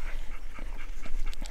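Siberian husky sled dogs in Lapland whimper and pant in short, uneven bursts close by, over a rough outdoor rumble.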